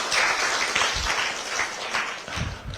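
Audience applause at a Kenyan Azimio la Umoja leadership gathering in Kisii, a dense, steady wash of clapping that stays loud and continuous throughout, with no clear speech over it.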